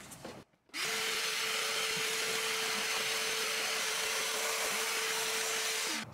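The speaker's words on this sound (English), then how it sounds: "So now that we've vacuumed inside this little compartment" A vacuum cleaner runs inside a small seat compartment of a Ford Transit van, starting abruptly after a brief pause and then droning steadily and loudly with a constant whine until the end.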